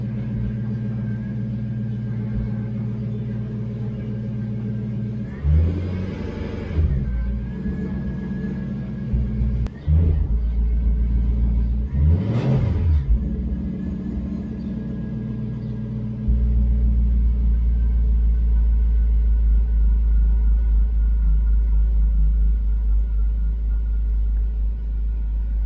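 A Jaguar XK8 engine idles during a gearbox service, a low steady rumble broken by two brief louder swells, then settling into a heavier, deeper hum for the final stretch.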